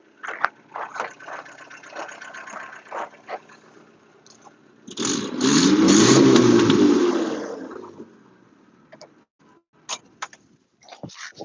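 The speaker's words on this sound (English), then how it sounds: "Take the exhaust off. It sounds like Evan's Camry." A car engine with its exhaust removed roars up in a raw, unmuffled rev for a few seconds amid scattered clicks and clatter, then drops away.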